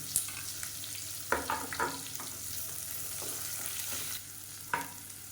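Small shallots sautéing in a pan for Chettinad mutton rib bone soup, a quiet steady sizzle broken by occasional spoon scrapes and stirring knocks, with no voices.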